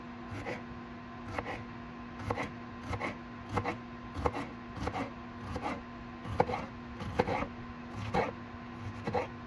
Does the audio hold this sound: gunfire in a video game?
no